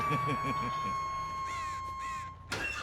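Several crows caw in the video game Dead by Daylight, a rapid run of harsh calls followed by a couple of drawn-out caws, with a voice talking partway through.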